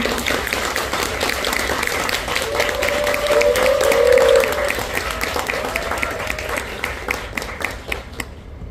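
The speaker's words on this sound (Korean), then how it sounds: "사라님, 박수로 맞아주세요." A concert audience claps to welcome a band's keyboardist onto the stage, with steady, fairly close applause running for most of the stretch before thinning out near the end.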